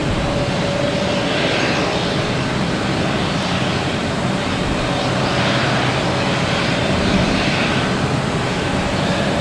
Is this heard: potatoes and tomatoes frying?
no